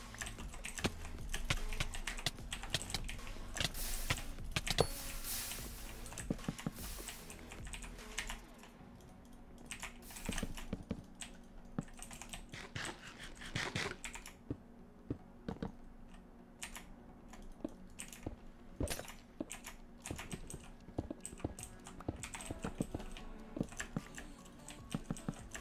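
Rapid jitter clicking on a computer mouse and keyboard during gaming, dense bursts of fast close clicks and key taps, loud at first, then sparser scattered clicks with pauses.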